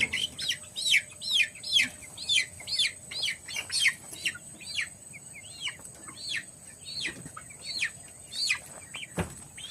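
A Rhode Island Red hen clucking close by: a long run of sharp, repeated calls in an uneven rhythm, roughly a dozen or more, carrying on without pause and with no voices over them.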